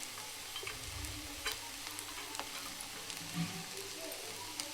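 Fried egg with chopped coriander is mixed in a pan, a soft, steady sizzle with faint scraping strokes of a spoon recurring every second or so, quiet and close, with no speech.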